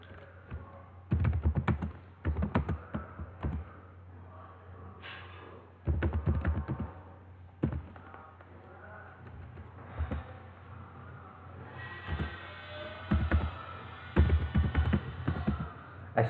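Typing on a computer keyboard in irregular bursts of clicky keystrokes separated by pauses, close and clear, with no talk over it.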